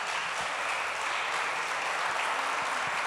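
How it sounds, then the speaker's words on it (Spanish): A church congregation applauds during a sermon, a dense, even wash of many hands clapping at once, sustained and close. "Denle un aplauso al Señor"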